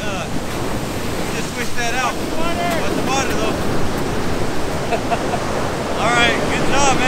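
Ocean surf breaks on a beach at Gualala where people are fishing for perch. The waves make a loud, continuous wash with heavy wind buffeting the microphone, and voices talk and shout over it.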